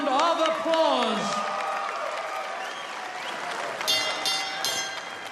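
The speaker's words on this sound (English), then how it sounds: "Please give these two warriors of the ring a big round of applause." Crowd applause for two boxers at the end of a fight, a broad steady wash of clapping and cheering with a voice and other talk running over it throughout.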